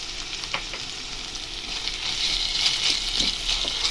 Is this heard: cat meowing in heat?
no